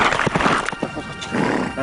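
A horse whinnies close by in Mongolian steppe country, a loud, shaky neigh with several rising and falling bursts over a couple of seconds, with faint hoof clatter beneath.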